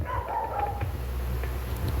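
A small dog barks faintly from another room in a home, a short thin yelp or two over a steady low hum, with no talking.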